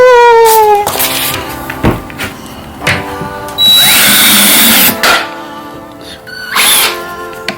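A cordless power drill drives screws into a DIY Hollywood-style lighted vanity mirror. Several close, loud bursts of motor whine start and stop in quick succession, with ratcheting clicks between them.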